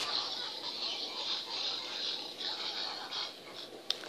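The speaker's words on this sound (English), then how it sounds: "if you wanna know what the pig sound makes" An Angry Birds pig toy plays its built-in electronic pig sound, a thin, steady squealing tone that runs for several seconds before ending in a couple of sharp clicks.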